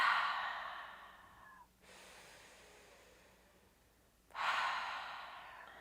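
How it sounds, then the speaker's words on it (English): Slow, deep cleansing breaths during a yoga session: a long airy exhale through the mouth, a quieter nasal inhale, then another strong exhale, close and unaccompanied by speech. "You can inhale through the nose, exhale out the mouth"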